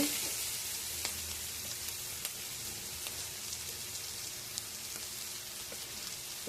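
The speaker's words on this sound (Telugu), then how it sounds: "ఆనియన్స్ ఫ్రై అయ్యేంత వరకు మూత పెట్టుకొని ఇలా ఫ్రై చేసుకోవాలి" Chopped onions fry in a covered pan for a mushroom fry, giving a steady close sizzle with faint crackling pops throughout and no one talking.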